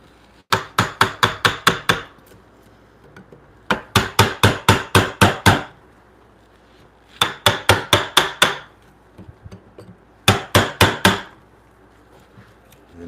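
Hammer strikes drive a chisel into wood in quick rhythmic runs of about five to eight sharp, close knocks, with short pauses between four separate groups.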